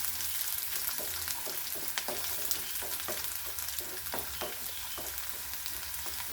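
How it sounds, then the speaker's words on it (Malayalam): Garlic and ginger sizzling in oil in a pan, a soft continuous frying hiss broken by repeated scraping strokes of a spatula stirring, close and quiet with no talk. "അപ്പം നമ്മൾ വെളുത്തുള്ളി വെളുത്തിരിക്കുന്ന വെളുത്തുള്ളി ഇട്ട് കൊടുക്കുന്നുണ്ട്. പിന്നെ ഇഞ്ചി ഇട്ട് കൊടുക്കുന്നു."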